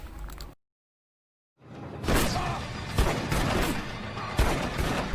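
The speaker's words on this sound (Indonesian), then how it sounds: "mereka bertiga pun saling menembak satu sama lain" Gunshots in a shootout scene from the 2010 heist film Takers, heard as loud, sharp bursts after a brief gap of silence, with repeated impacts and thuds layered under a dense, busy soundtrack.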